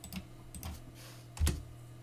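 A few scattered keystrokes on a computer keyboard while a command is typed in a Linux terminal, with light taps spaced out and one sharper, louder click near the end.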